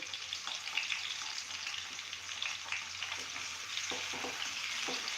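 Two dried red chillies fry in hot oil in a pan for a red chilli chutney, giving a soft, continuous crackling sizzle with a few light spatula taps toward the end, fairly quiet and without voices.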